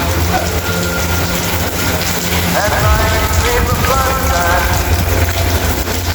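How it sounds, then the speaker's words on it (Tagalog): Steady heavy rain from Typhoon Tino pours down with a constant wash of noise and gusty rumbling wind, loud and close, with faint whistling tones drifting through. "Andito sa part na ito, malakas ang ulan at hangin dito."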